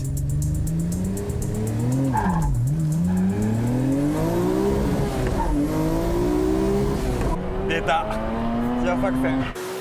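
A race car launches hard off the starting line, its engine climbing loudly through the gears with steady, aggressive acceleration and a brief dip in pitch, heard close and loud throughout.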